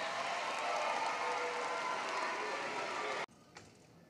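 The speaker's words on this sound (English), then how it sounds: "Let's give them a round of applause." Audience applause at a high school graduation ceremony, a dense, steady wash of clapping sustained for about three seconds before stopping abruptly, followed by a brief quiet tail.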